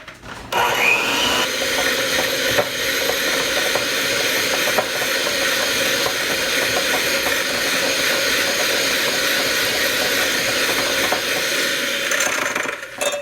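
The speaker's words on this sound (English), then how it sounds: "We're gonna cream that together with just a hand mixer," A hand mixer creams banana bread batter in a bowl with a steady, loud whirring drone that runs unbroken for about twelve seconds before cutting off, with no talk over it.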